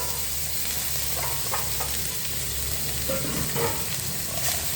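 Carrot and bean pieces frying in a pan give a steady broadband sizzle, with a few soft scraping stirs breaking through, close and continuous with no talk.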